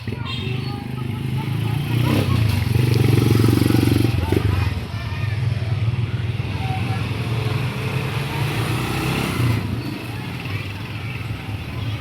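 An old motorcycle tricycle engine idles and runs steadily nearby on a road, with a continuous low rumble that swells briefly midway; people talk over it throughout.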